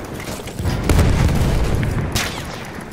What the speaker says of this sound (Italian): Questa granata è tutta per loro!